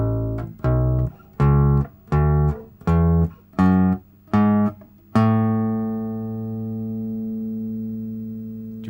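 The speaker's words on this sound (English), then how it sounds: "The second scale we're going to look at is called the major scale." A bass guitar plays a major scale, seven evenly spaced plucked notes rising step by step, then a final note left to ring and slowly decay, clear and close with no talk.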